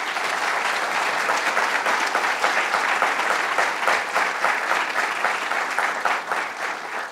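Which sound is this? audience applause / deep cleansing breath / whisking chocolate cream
audience applause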